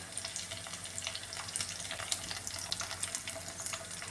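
Grated coconut and dried red chillies fry in coconut oil for a Kerala koorkka (Chinese potato) mezhukkupuratti, giving a close, busy crackle and sizzle with scattered pops throughout and no speech.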